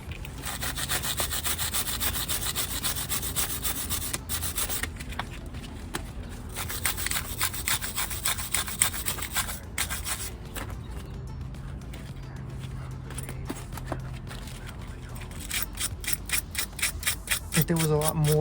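Wire brush scrubbing rust and dirt off brake parts in a garage, a steady coarse rasping stroke after stroke, fairly loud and continuous with faint clanks.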